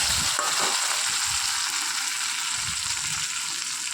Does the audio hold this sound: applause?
no